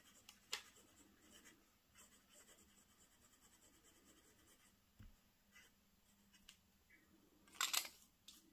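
A fountain pen scratches faintly across paper while writing with dark ink, soft intermittent strokes heard close up in a quiet room, with a few sharper taps and scrapes near the end.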